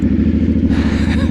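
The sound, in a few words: Yamaha R7 twin cylinder motorcycle engine starting up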